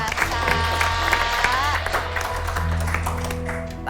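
A studio audience breaks into applause for comedian Pandji Pragiwaksono, steady clapping running under a sustained low hum while people keep talking over it.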